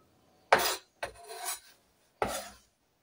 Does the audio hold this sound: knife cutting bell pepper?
yes